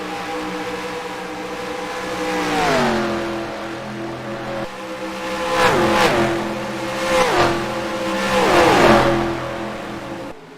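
Stock cars racing around Lowe's Speedway in the NASCAR Racing 2003 video game, with loud engines revving as several cars sweep past one after another in rising and falling surges.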